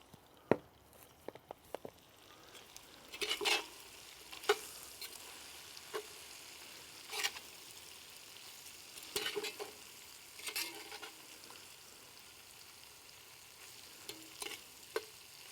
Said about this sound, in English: It's browning off now nicely now.